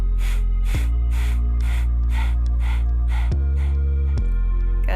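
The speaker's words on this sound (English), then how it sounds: "our exhales are going to be a bunch of short, sharp breaths out instead of one long exhale" Breath of fire yoga breathing, a rapid series of short, sharp, forceful exhales through the nose, about eight evenly spaced puffs close to the microphone over a steady low hum.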